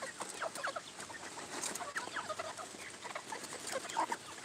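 A small flock of chickens clucks and murmurs continuously nearby while eating dandelions, soft overlapping calls with occasional louder squawks.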